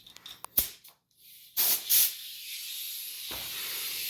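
A hose with a slight leak gives off short sharp hisses, two strong bursts close together followed by a fainter steady hiss, among scattered light clicks and knocks.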